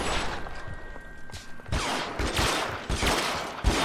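Bursts of video game gunfire from LA Noire, a rapid fusillade of close shots cracking in uneven clusters, loud and sharp with little pause between volleys.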